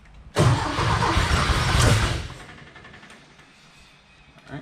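A Porsche 914 with a 2 liter engine starts up, bursting into a loud, close roar that holds for about two seconds, then settles into a quieter idle.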